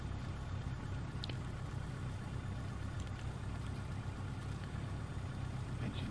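An A2A Cessna 172 Skyhawk engine in Microsoft Flight Simulator X runs with a steady, even low drone throughout, fairly quiet and alone without speech.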